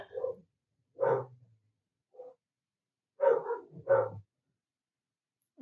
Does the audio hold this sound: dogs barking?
yes